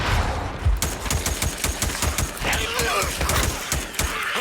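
Rapid gunfire from a gun in the game Days Gone, a fast steady burst of loud close shots that runs throughout with some clattering.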